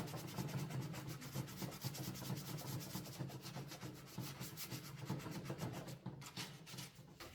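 Sanding Fibral filler that is not yet fully dry on a cracked plastic car grille trim piece, a steady close scratchy rubbing with a rapid back-and-forth rhythm that runs continuously without pause.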